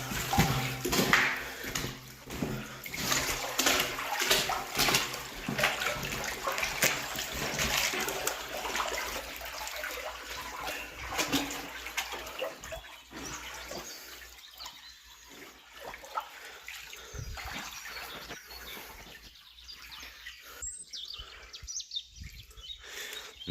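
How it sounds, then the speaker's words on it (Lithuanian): Stream water flowing through a road culvert tunnel, a hollow, echoing trickle and splash that is louder at first and thins out, with faint bird calls in the background. "Tai va čia atiteka kitas upelis"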